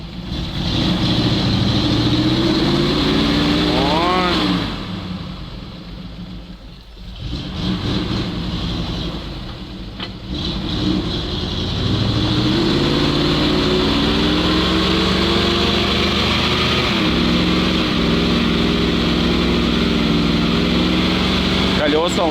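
A GAZ-66 truck with deflated tyres, stuck in a swamp, revs loudly and strains, its engine note climbing and dipping through repeated surges, with a brief lull partway through.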